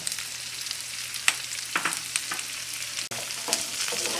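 Capsicum and onions sizzle in a pan for restaurant-style dry chilli paneer, with a series of scraping spatula strokes and clacks against the metal over a steady frying hiss.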